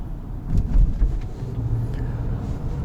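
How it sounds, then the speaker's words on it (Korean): A Mercedes-Benz EQA 250 electric car accelerates in sport mode with a low, steady rumble of road and motor from inside the cabin. It swells briefly near the start and then holds even. "주행 모드를요 이제 에코에서 스포츠로 놓고 조금 한번 밟아 보겠습니다"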